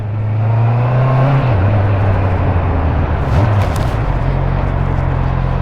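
A Honda CB 650 R motorcycle engine runs loud and close in a steady, droning hum, its pitch dipping and shifting briefly twice before settling back to an even idle-like rumble, with no voices.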